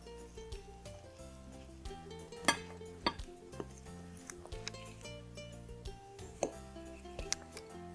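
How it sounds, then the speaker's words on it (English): A fork mixing liquid into dry cranberry walnut scone ingredients in a bowl, with faint clinks and scrapes tapping out an irregular rhythm over soft background music. "we're going to mix the liquid mixture into the dry mixture using a fork"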